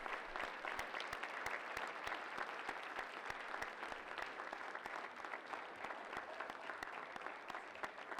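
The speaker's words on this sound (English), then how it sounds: "Let's give a big round of applause to our EMU baseball alumni." Audience applause for baseball alumni at the 2020 Eastern Michigan University baseball leadoff dinner, a steady, even round of clapping that sounds fairly distant and continues throughout the clip.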